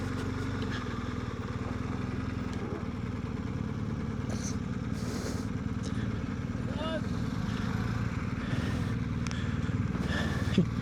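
A motorcycle rides down a dirt road on the Washington Backcountry Discovery Route near Conconully, producing a steady, moderately loud engine drone with rough, rumbling texture throughout.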